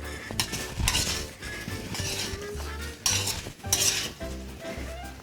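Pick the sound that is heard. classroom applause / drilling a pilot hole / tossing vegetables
tossing vegetables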